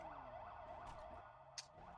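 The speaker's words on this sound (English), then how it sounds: "oh my God, that siren" An emergency vehicle siren in a GTA roleplay game wails in a steady repeating up-and-down cycle, faint and continuous over a low rumble, with a brief click near the end and no one speaking.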